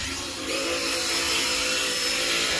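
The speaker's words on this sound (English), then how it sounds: "he's drilling the clamps in for the lines" A power drill whines steadily while driving fuel line clamps into a supercharged Ram pickup truck during a fuel system install, a continuous high-pitched drone lasting under three seconds, close and alone.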